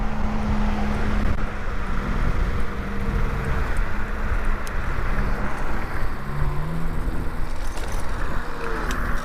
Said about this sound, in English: so that was the noise I was hearing behind me, that car